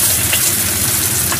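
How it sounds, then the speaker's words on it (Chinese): Garlic stir-fried in a little oil in a wok while preparing an apple and cinnamon braised pork shank, giving a loud, steady, close crackling sizzle throughout with no talking. "再烘一烘佢，有適量嘅香味，落翻少少嘅油，"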